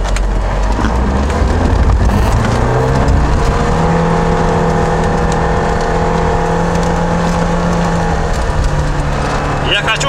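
A car fitted with snow chains churns through deep drifted snow in low gear, its engine droning loud and steady and rising slightly in pitch.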